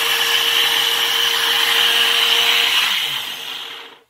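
A blender grinds cashew nuts into milk using the wrong blade, a loud steady whirring drone that runs continuously, then spins down and fades near the end.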